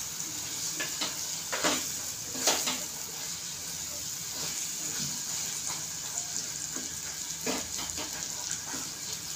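Potatoes and green peas sautéing in oil for matar batata bhaji, a soft steady sizzle with intermittent stirring scrapes and clinks of a spoon against the pan.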